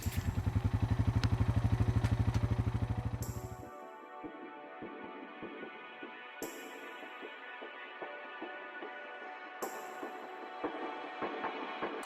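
An ATV engine chugs with a loud, rapid rhythmic putter for a few seconds, then drops to a quieter running with scattered clatter and rattles during a ride on a farm tour.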